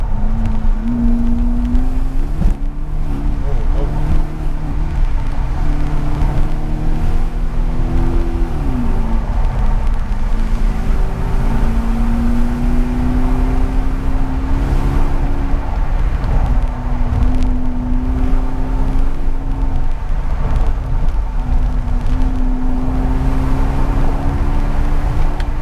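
BMW 745i E65 V8 with a cut-off valve installed, driven through town in manual mode in second gear, giving a loud, steady engine drone whose pitch rises and falls with throttle changes, continuous and close throughout.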